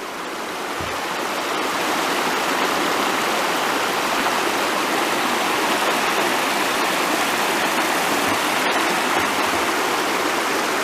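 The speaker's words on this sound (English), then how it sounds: "Here's another shot of Mill Prong Creek." Mill Prong Creek in Shenandoah National Park rushes loudly and steadily, heard from a bridge as a broad continuous roar of flowing water that swells in over the first moments and holds without any voices.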